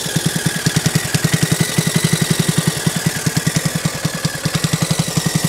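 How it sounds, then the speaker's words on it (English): A seed tender motor runs in a peanut field with a rapid, regular chugging beat. Its pulses are loud and close, and the rhythm falters briefly near the end. "I don't know what's going on with this motor."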